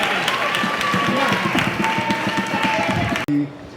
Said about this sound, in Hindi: तो जोरदार तालियां निखिल और उसकी टीम के लिए।